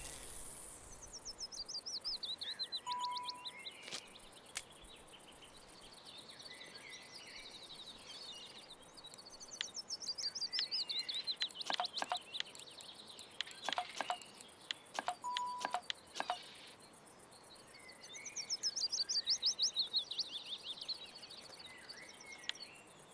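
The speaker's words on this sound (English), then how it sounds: "Hey, you loud bird." Bird in the Russian Fishing 4 game world giving repeated loud, descending chirping phrases in a few separate bursts, over a faint background of insect-like buzzing and scattered clicks.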